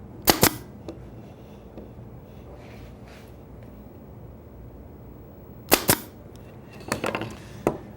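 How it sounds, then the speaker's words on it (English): Pneumatic 22 gauge pin nailer driving pins into wood: sharp, close pops in quick pairs and clusters, separated by stretches of quiet room noise. "with a pin nailer. This is, I believe, a 22 gauge. It runs off compressed air."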